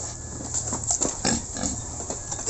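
Grower pigs of around 50 to 70 kilos on a farm grunting and snorting in short irregular bursts, close by, with shuffling and movement noise between the calls.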